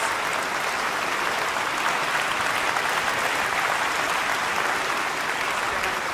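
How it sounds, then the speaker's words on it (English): An audience applauds at the Manitoba State of the Province address, a steady, loud wash of many hands clapping throughout with no pauses. "Please join me in a round of applause."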